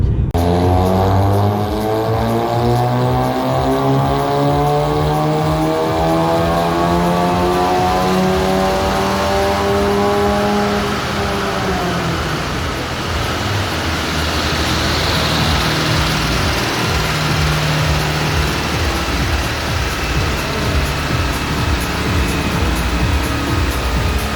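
A stock 2014 Golf 7 GTI on a dyno revs up through a long rising engine pull, droning loud and close before settling into a steady roar.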